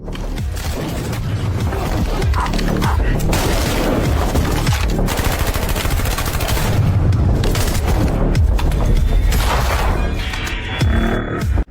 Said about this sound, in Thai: พวกเรายิงใส่ศัตรูไม่หยุด